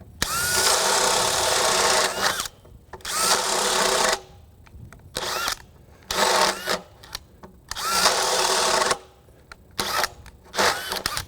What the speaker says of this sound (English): So we're going to drop down to a 1 inch spade bit here